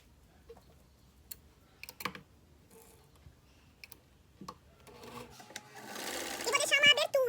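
A sewing machine stitching a seam on a dish towel starts up near the end with a rapid, close mechanical whirr, after scattered soft clicks and handling taps.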